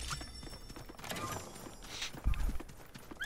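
Rhythmic horse hoofbeats clop along steadily at a quick pace, fairly quiet, with ambient background sound from the video game Realm Royale.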